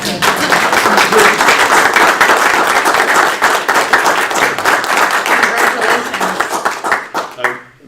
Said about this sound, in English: Can we just give you a quick round of applause?